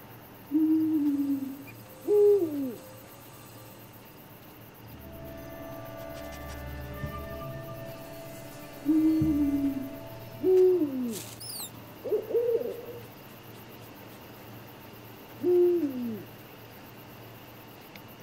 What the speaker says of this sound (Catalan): Mussol.